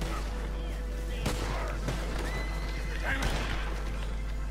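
A horse whinnies amid a steady Red Dead Redemption 2 soundscape, with sharp bursts like distant gunfire cutting through a constant low hum.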